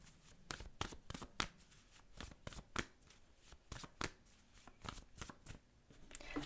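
Tarot cards are handled and flipped in irregular bursts, giving crisp papery slaps and snaps close to the microphone, with soft shuffling rustles between the louder card turns and no talk.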